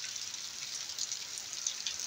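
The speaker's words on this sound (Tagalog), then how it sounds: "Hanggang pa yata itong ulan?" Heavy rain falling during a stormy spell, a steady faint hiss of drops with no voices.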